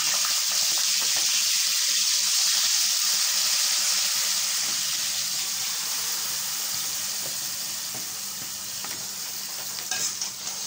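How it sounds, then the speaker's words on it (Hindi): One kilo of marinated beef hits hot oil in a pot, setting off a steady loud sizzle with crackling and occasional stirring scrapes, close by and without speech. "ये तेल गर्म हो चुका है,"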